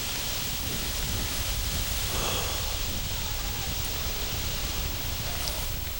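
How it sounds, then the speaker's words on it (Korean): Sandstorm wind at the Mogao Caves, a steady broadband rushing hiss with soft rustling, even and continuous without speech. "막고굴에 황사바람이 불기 시작했다."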